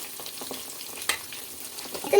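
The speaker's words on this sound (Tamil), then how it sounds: "பதக்குன்னு கொதிக்குது." Cauliflower 65 pieces fry quietly in bubbling oil, giving faint crackling pops and a soft sizzle close by.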